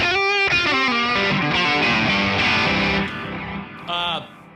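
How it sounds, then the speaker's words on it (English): A distorted electric guitar solo runs through a long tape echo delay, bending and sustaining notes that smear into repeating echoes, then drops back to a short, quieter phrase near the end. "On the solo section, I turned on, of course, my trustworthy tape echo delay."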